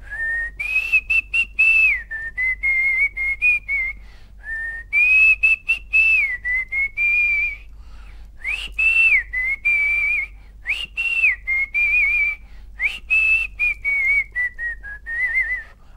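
Close, clear solo whistling by a male film music director working through a song melody: sustained pitched phrases with brief gaps, repeated across several bars with no talking.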